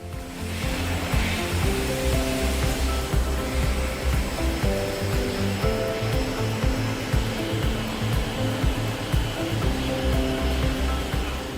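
Industrial hot air dryers running in an instant noodle factory give a loud, constant roaring blow of air with an underlying mechanical hum and rattle, steady throughout.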